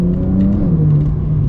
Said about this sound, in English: It still sounds amazing, and you get little whoosh, turbo whooshes.